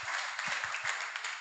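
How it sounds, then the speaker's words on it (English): An audience applauds a speaker at a philosophy school gathering in Melbourne. The sustained, even clapping fills the brief moment, with a few heavier low thumps scattered through it. "can we please give Martin a round of applause?"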